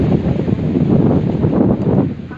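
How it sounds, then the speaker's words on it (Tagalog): Strong wind buffets the microphone outdoors as a continuous loud low roar that rises and falls in gusts, with no voices. "Grabe yung hangin."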